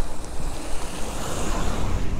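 A food-delivery rider in a downpour rides through puddles, with a continuous loud wash of splashing water and rushing wind noise, steady and close, with no speech.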